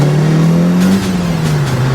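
A Mitsubishi Lancer Evo VI JDM car revs up close by. The engine note climbs and then eases back, staying loud through a short burst with no voices.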